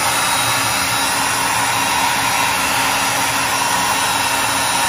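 A heat gun blows steadily on a guitar pickguard to soften the glue beneath it, a loud, even, unbroken hiss of rushing air that runs for the whole stretch with no talking.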